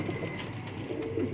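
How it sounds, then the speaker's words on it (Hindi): A pet pigeon from a fancier's collection cooing softly, a few low murmuring calls over faint background noise, close by. "ये भाई इनके पास मेरा बहुत ही फेवरेट कबूतर है"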